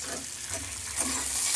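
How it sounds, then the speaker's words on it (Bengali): Onion, thinly sliced tomato and green chilli frying together in a pan, giving a continuous close sizzle that swells slightly as the mixture is stirred. "এবার পেঁয়াজ, টমেটো, কাঁচা লঙ্কা সব একসঙ্গে একটুখানি ভাজা ভাজা করে নেব।"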